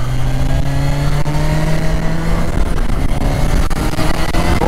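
A Kawasaki Versys 1000 motorcycle engine runs steadily with a rising, revving tone at Interlagos circuit, then drops into rougher low rumbling; loud and close, no voices.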